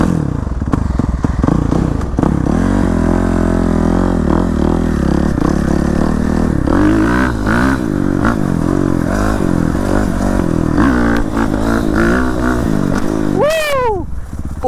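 Kickstarted motorcycle engine running steadily and loud close by, idling and then revving in bursts with some clatter, ending in a sharp rising rev.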